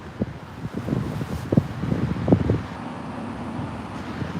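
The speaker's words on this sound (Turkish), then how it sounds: "şu an burası bayağı rüzgarlı" Gusty wind buffets the microphone with low rumbling thumps and rustle, irregular and close, with no clear speech.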